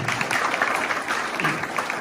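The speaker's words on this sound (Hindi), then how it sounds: "यहाँ फिर से तालियां हो जाए" Audience applause fills a church sermon hall with a steady wash of many hands clapping, dense and even throughout at moderate loudness, with no voices over it.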